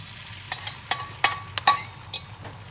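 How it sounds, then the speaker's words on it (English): Steady soft sizzling of a French omelette in a carbon steel pan, punctuated by several sharp metallic scrapes and clinks at irregular intervals. "you don't want too much sizzling, and you don't want to coagulate too fast"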